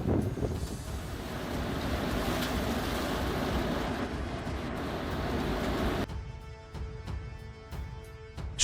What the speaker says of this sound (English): Strong waves crashed into the shore, creating white foam and a loud roar, flooding the entire coastal road.